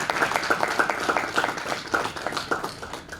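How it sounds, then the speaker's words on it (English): An audience claps for the sponsor at a CEO Africa roundtable event on real estate investment: a steady, lively round of applause with dense overlapping hand claps, moderately loud, lasting the whole stretch. "I think you deserve a round of applause."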